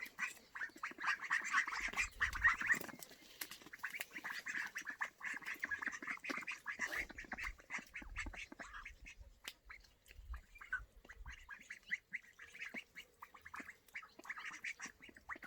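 Backyard pet ducks quack loudly and densely for the first few seconds. The calls then thin out into scattered, quieter quacks and small shuffling noises nearby, with no voices.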